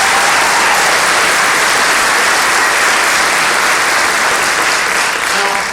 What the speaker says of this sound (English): Let's give a round of applause to the winners.